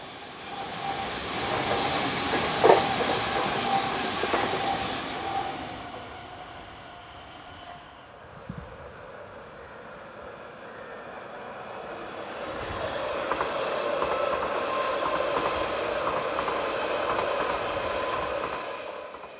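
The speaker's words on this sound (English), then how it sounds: "This train is formed of a pair of new RABE 412 units as it heads for Bern." A metre-gauge RBS train of two coupled RABe 412 units rolls past near Bern with wheel squeal and rumbling clatter that fades and then rises again as the cars go by.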